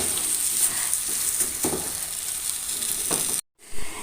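Masala being mixed with coriander leaves in a hot pan, a continuous close sizzle with scraping stirring strokes, briefly cutting out near the end.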